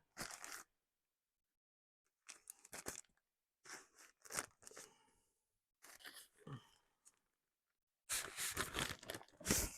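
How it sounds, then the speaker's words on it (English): Gift-wrapped books being unwrapped, with close bursts of paper tearing and crinkling in several separate spurts and quiet gaps between, ending in a longer rip. "I've got some to unwrap."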